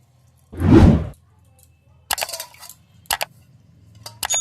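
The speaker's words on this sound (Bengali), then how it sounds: "আবারও জল দিচ্ছি আর জিরেটা যেভাবে ধুয়েছি সেভাবে ধুয়ে নিচ্ছি" Water is poured over cumin seeds to rinse them at home, a single broad splashing pour near the start, then lighter clinks and sloshing as the seeds are washed in the container.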